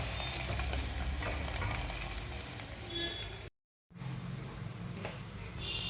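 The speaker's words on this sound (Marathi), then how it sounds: "कढईने तेल सोडून घेणार आहोत आणि एक भाजी व्यवस्थित शेकून घेणार आहोत" Methi matar paratha fries in oil in a pan, giving a steady, close crackling sizzle. The sizzle breaks off for a split second, then carries on.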